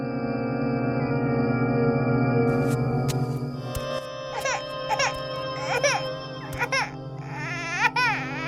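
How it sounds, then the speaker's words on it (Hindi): An infant crying in a horror story setting, a sustained wailing cry with rising and falling pitch that grows more broken and sobbing, overlaid with eerie tonal sound effects. "ये रोने की आवाज कैसी?"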